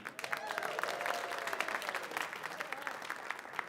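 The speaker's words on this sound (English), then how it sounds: "thank you for applauding when Salsa holds up the applause sign" Studio audience applause on cue for a radio show, a steady patter of clapping at moderate level that holds throughout with slight swells, no voices over it.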